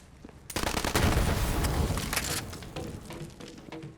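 Sustained gunfire in Borderlands 3 pours into a pumping well, a dense run of blasts and rattling impacts that swell, then taper into scattered shots.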